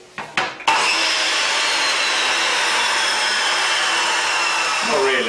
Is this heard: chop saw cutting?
yes